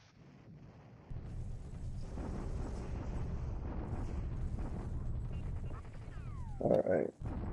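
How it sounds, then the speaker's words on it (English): Naval bombardment in the War in the Pacific video game: a sustained low rumble of explosions rolls on continuously, with a sharper burst near the end. "the usual bombardment there"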